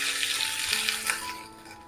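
Food frying in a pan during home cooking of a South Indian rice dish, a steady close sizzle with soft crackles and a light metallic clink, with no talking.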